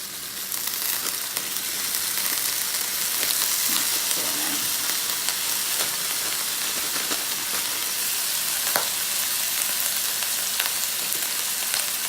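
A pound of ground beef, partly frozen in the middle, fries in a hot oiled pan over medium-high heat, a continuous close sizzle with occasional stirring scrapes.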